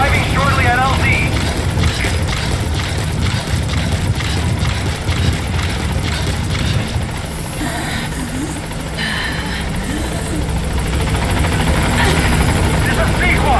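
Helicopter in Metal Gear Solid V arriving at a landing zone, a steady rotor and engine drone throughout with radio-style voice chatter over it.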